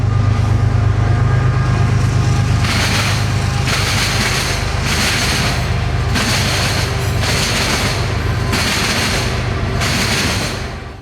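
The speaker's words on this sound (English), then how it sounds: "First train to come this morning would be CSX train Q45304." A CSX southbound mixed freight train rolls through the Crawford, Florida diamond, where the CSX Callahan subdivision crosses Norfolk Southern's Valdosta district at grade, giving a loud steady roar with deep rumble and a series of rhythmic clanks as cars cross the diamond.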